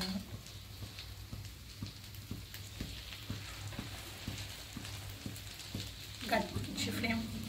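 A sandwich sizzling in hot butter in a pan on the stove, a soft steady fry with faint regular ticks and a brief clatter near the end, low in level.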